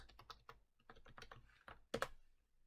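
Quick typing on a computer keyboard to enter a login, bursts of close, crisp key clicks with a sharper cluster of presses near the end, then a quiet pause.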